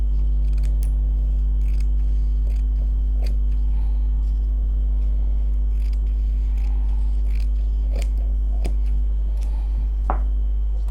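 Scissors snip fabric for a turban cap, sparse crisp cuts spaced across the clip with one sharper snip near the end, close by over a loud steady low hum, no speech.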